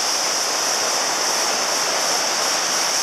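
Ocean near Sasuyat Falls, a steady hissing roar of water with constant broadband wash and no distinct breaks, loud and continuous without voices.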